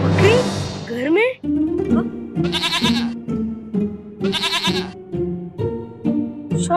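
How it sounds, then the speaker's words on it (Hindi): A goat bleats repeatedly, with several loud, wavering, nasal calls in an irregular rhythm, close to the listener and heard alone without talking over them. "ये तो प्यारी सी बकरी है"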